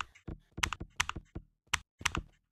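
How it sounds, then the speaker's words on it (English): Crisp keyboard clicks in a Gorilla Tag copy video game, a quick irregular burst of close, loud keystrokes with brief pauses between clusters. "And then it's got nice clicks on the keyboard."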